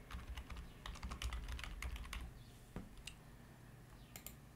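Quick, light keystrokes tap out a search on a computer keyboard, a close, soft patter of clicks that thins to a few scattered taps near the end, with no voice.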